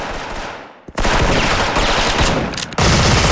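Close, loud Bolt Dual MP9 bursts in the shooter game Special Force: rapid automatic fire rattles in long strings, broken by one short pause, then resumes.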